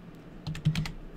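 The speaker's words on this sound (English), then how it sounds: "I typed it out this time" A short run of four or five quick keystrokes on a computer keyboard while entering a command on Ubuntu, close and soft.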